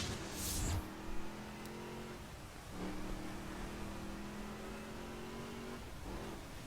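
A race car engine in The Crew video game holds a high, steady drone at speed on a bumpy road, with a brief rough burst early on and a pitch dip and recovery partway through, loud and without talk.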